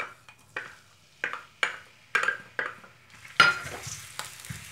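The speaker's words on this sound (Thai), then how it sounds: "เราจะเจียวกระเทียมกันก่อนนะคะเป็นกระเทียมที่สับหยาบค่ะ" Coarsely chopped garlic frying in oil in a pan, a series of distinct scraping, clinking strokes of a utensil against the pan over a faint sizzle, fairly quiet and close, with a brighter burst of frying noise near the end.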